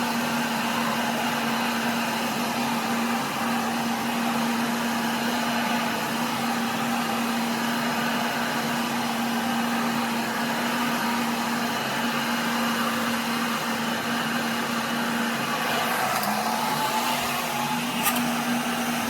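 A Milwaukee heat gun blows steadily on a vinyl seat cover for a '70 Ford F-100, giving a constant close whirring hum with a fixed motor tone and airflow hiss that runs the whole time.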